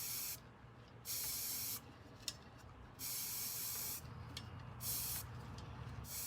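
Bursts of spray paint hissing onto a tumbler in short passes, several sprays of about a second each separated by brief pauses, close by with no talking.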